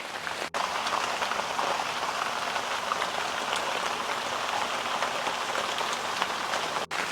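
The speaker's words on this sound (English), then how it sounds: "It's so much rain, guys." Heavy rain pours steadily in a garden, a dense unbroken hiss of drops hitting surfaces and puddles, loud and close throughout with no talk.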